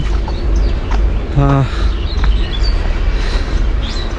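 A train comes up from behind along a railway line between Feni Junction and Bariyarhat in Bangladesh, heard as a steady low rumble with a brief tonal horn-like blast midway, fairly close, with wind noise throughout.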